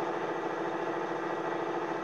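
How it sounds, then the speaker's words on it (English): A ranch vehicle's engine runs at high RPM, a continuous, steady roaring drone with an even, unbroken buzz throughout. "And the RPMs are roaring."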